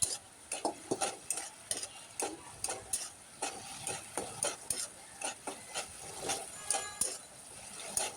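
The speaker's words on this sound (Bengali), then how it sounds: "মশলাটা খুব ভালোভাবে কষিয়ে নিতে হবে" Spice paste frying in a pan for a Bengali katla fish curry with brinjal, potato and lentil dumplings, stirred with a spoon in a steady series of scraping strokes over a soft background sizzle.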